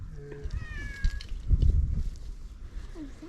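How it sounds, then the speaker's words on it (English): A cat meows a few times on a rural property, short pitched cries over a low, rumbling outdoor background with faint murmuring. "Does the cat come with it?"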